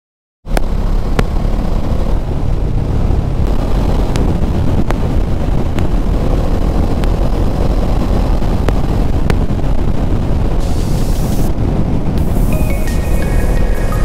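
A Bajaj Dominar 400 motorcycle ridden on the road back to Bangalore from Coorg: steady, loud engine drone and constant wind rush against a helmet camera, continuous for the whole stretch with no talking.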